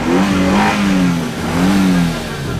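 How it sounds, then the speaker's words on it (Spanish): A car engine in a horror video game roars to life, rising through two revving sweeps, loud and close, with no speech over it. "Gigor, el coche ha arrancado"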